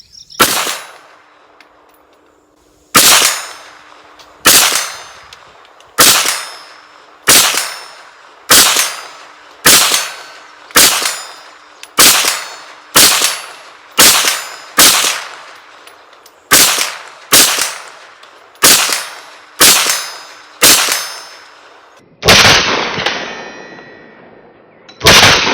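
A Kel Tec PMR 30 pistol fires about sixteen sharp, loud shots at a steady, unhurried pace outdoors, each crack followed by a short ringing decay, with a final harsher burst near the end.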